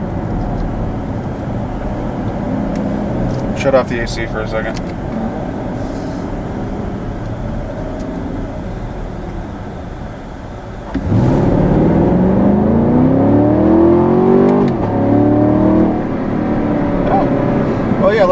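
Inside a 2020 Chevrolet Camaro 2SS with a 10-speed automatic at high altitude, a steady cabin drone gives way to a loud engine rev in first gear that climbs in pitch, with people talking over it.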